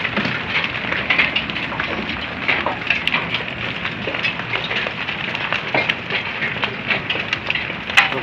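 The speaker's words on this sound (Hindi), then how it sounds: "बड़े ज़ोर शोर से ओले पड़ रहे हैं" Hailstones patter and clatter steadily on a surface at night, a dense, continuous rattle with sharper hits popping out now and then.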